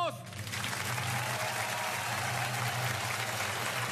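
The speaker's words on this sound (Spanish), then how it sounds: "¡Aplausos para la concursante número dos!" Studio audience applauding and cheering for the second contestant on a local TV game show, a dense steady wash of clapping with a low hum underneath and some voices mixed in.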